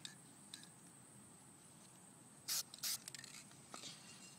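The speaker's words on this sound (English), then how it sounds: "go ahead and spray paint that" Spray paint being applied lightly to Xbox 360 controller parts, two short hissing bursts from the aerosol can with a few faint clicks and rattles around them, quiet room and no talking.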